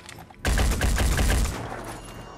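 Rapid burst of automatic gunfire from the video game Phoenix Point, a loud, close rattle of about a second of fast repeated shots that fades into a lingering echo, with no talk.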